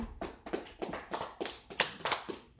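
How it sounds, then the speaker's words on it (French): Scattered hand claps ring out sharply at a church gathering as a speaker is welcomed onto the stage, about ten distinct claps at an uneven pace, fairly close and with no talking. "Nous recevons sur la scène. Avec des applaudissements."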